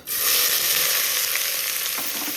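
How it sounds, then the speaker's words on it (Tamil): Loud, close sizzle of onions frying in hot oil, a continuous crackling hiss with faint stirring and no voices. "வெங்காயம் நல்லா வதங்கி வரட்டும்"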